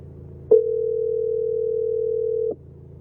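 Telephone ringback tone sounds while a call is being placed, one steady electronic beep lasting about two seconds over quiet background hum, close and clear.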